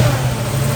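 A 1970 Ford Mustang with a throttle body fuel injection, air gap intake manifold and upgraded cam runs close by with a deep, steady engine rumble.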